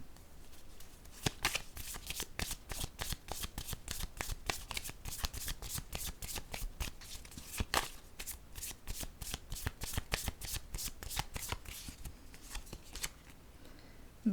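Tarot cards being shuffled by hand, a rapid continuous run of crisp riffling flicks, close and fairly quiet, going on steadily with no talking.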